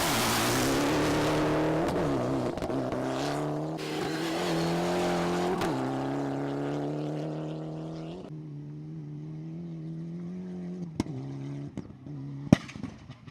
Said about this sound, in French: C'est un SSV qui a ouvert ce top chrono.